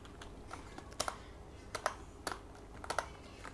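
Quiet keystrokes on a computer keyboard, a few scattered taps and short clusters of clicks over a steady low hum, close and soft with no talk.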